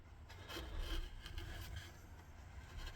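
A sharp chisel or gouge carves a basswood bowl, giving close, steady scraping and shaving strokes in a continuous rasping rhythm with no talk.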